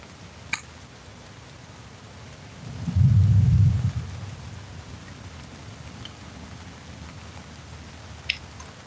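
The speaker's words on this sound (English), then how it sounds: "if this is a small storm, we shouldn't have much problem" Thunderstorm rumbling by a large river, with one deep roll of thunder swelling loudly for about a second amid a steady wash of rain and wind, a few faint clicks around it.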